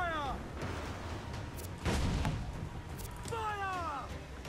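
Ship cannons firing in the video game Assassin's Creed 4 Black Flag: a single loud booming blast midway, with shouting voices in the background before and after it.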